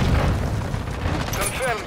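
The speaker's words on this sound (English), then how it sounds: "Throwing grenade!" A grenade blast in a Call of Duty game, a heavy low boom that rolls on for nearly two seconds under overlapping game voices.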